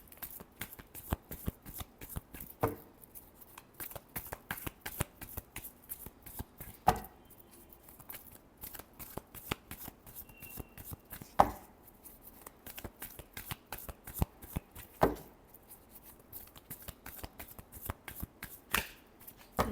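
Tarot cards are shuffled continuously and close up, a dense rapid riffle of crisp card flicks with occasional louder slaps and taps as the deck is squared.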